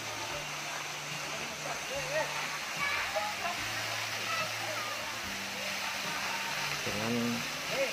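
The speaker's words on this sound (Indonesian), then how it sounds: "air terjun yang sangat indah" A steady rush of falling water from a waterfall in Leduk village, Prigen, Pasuruan, roars continuously, with a voice and some tonal sounds rising above the constant splash.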